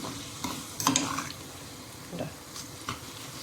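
Homemade hair oil with rosemary added sizzles and crackles softly in a pan, with a steady low frying hiss and occasional stirring clinks and pops.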